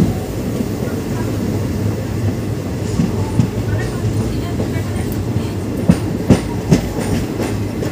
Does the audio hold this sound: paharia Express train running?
yes